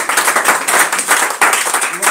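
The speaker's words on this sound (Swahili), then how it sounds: "Pigie Bwana Yesu makofi." A church congregation claps hands together in praise of Jesus, dense rhythmic applause filling the room, close and loud, with voices faintly mixed in.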